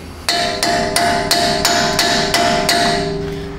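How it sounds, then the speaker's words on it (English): A hammer beats on a socket against a Jeep Wrangler front axle U-joint with nine sharp, ringing metallic strikes at a steady rhythm, each leaving a bright resonant ring. "I just didn't want to beat my socket on there too hard."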